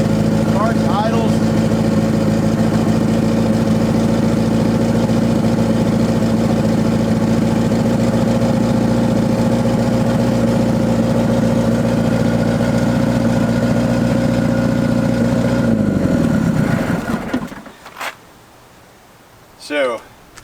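An old forklift engine idles steadily and loudly close by with a deep, even drone, then is shut off near the end, leaving near silence broken by a brief voice.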